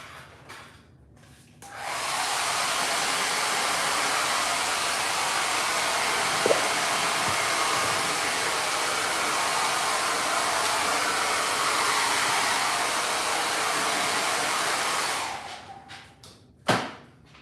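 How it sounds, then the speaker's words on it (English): A handheld blow dryer runs steadily for about thirteen seconds, drying paint on a craft project, with a loud constant whoosh starting and stopping with clicks and a soft knock near the end. "I am going to get my blow dryer out for a second and dry that a little bit"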